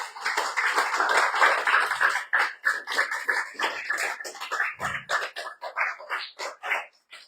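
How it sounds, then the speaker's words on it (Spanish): A church congregation breaks into sustained applause, loud and close, with dense rhythmic clapping from many hands that swells, holds for several seconds and gradually thins out. "¿Qué le da un aplauso al Señor, hermano?"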